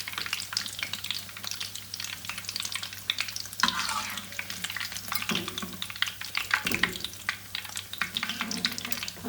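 Pieces of Dhaka fried chicken frying hard in ghee over a high flame: a dense, crackling sizzle runs close and continuous throughout, with occasional stirring scrapes and no speech.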